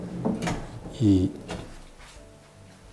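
Kitchen sink cabinet drawers in a two-storey country house sliding open and shut, with a short solid thump near the middle amid soft room noise and a voice speaking before it.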